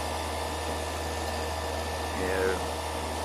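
A failing compressor in a Heil R22 heat pump package unit, suspected of bad suction valves, runs with a steady loud hum and drone, a brief rising tone near the end.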